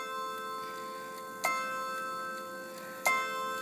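A triple chime bracket clock with a gorgeous, ringing chime: sustained bell tones hang throughout, with two bright struck notes about a second and a half apart, close and clear, no voices.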